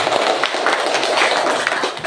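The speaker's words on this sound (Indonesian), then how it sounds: "Oke, kita berikan dulu tepuk tangan untuk siapa." A classroom of students clapping together, a dense steady patter of many hands filling the whole stretch at even loudness, with a brief tail-off at the end.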